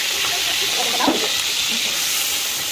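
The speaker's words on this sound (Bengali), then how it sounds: "এবার আমরা কড়াইয়ে তেল দিয়ে মশলাটা দিয়ে দিলাম" Spice paste frying in hot oil in a wok gives a steady, loud hiss and sizzle that holds from start to finish, close up, with one brief louder spatter partway through and no talking.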